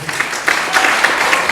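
An audience at a film screening and discussion applauds loudly, a dense continuous wash of clapping that swells after the first half-second and stays steady throughout.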